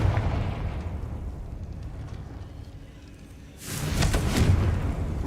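A Confringo fire-blast spell goes off in Hogwarts Legacy, a sudden heavy burst that swells out of a low rumbling background partway through and lingers for about two seconds.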